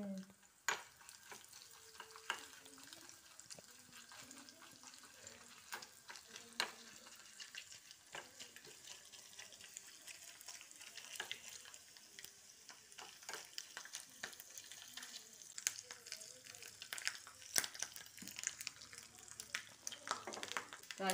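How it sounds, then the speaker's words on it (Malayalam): Chopped coconut fries in coconut oil in a pan for a bitter gourd theeyal. The sizzle is quiet and continuous, with crackles, pops and the occasional scrape of stirring, and no talk over it. "നമ്മൾ നേരത്തെ കൊത്തി വെച്ച തേങ്ങ അത് നമുക്ക് എടുത്തൊന്ന് എണ്ണയിലിട്ട്"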